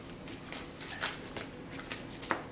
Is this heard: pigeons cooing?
no